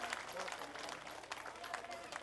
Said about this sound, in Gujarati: પ્રેમથી તાળી પાડતા જાઓ બધા અને આ સન્માનને બિરદાવો વાલા.